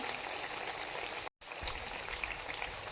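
Kothimbir vadi, coriander fritters, deep-frying in oil, crackling and bubbling steadily with a short break partway through and no voices.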